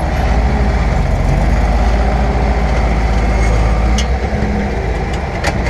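A heavy tractor engine rumbles loudly and steadily up close, a deep continuous diesel drone with no pauses.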